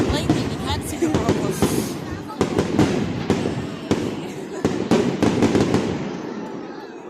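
A bonfire night fireworks display crackles and bangs in a series of sharp loud bursts, irregularly spaced and sometimes clustered, with rumbling echo between them and a quieter tail at the end.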